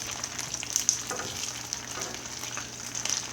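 Chicken wings browning in about two tablespoons of oil in an uncovered pan, a steady, moderate frying sizzle with small pops and crackles throughout, no voices.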